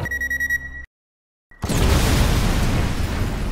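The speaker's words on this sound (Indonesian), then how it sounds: "Mobil pun meledak" A steady electronic beeping cuts to brief silence, then a car explodes with a sudden loud blast erupting into a sustained, roaring rumble, in a film.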